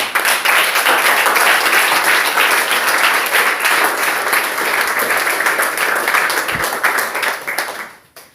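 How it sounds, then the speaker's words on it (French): A church congregation applauds together in a loud, continuous burst of clapping that carries on for several seconds before quickly fading out at the end. "Applaudissons."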